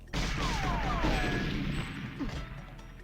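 Gunfire from a GoldenEye 007 game level set in archives, with sharp crashing shots over a busy, dense game soundscape, loudest early and then fading slightly.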